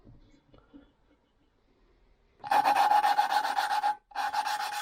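Valve being lapped into an engine cylinder head from a 2005 Suzuki RM-Z450, making a close, gritty rubbing rasp with a steady back-and-forth grind, preceded by quiet handling noises and briefly pausing once.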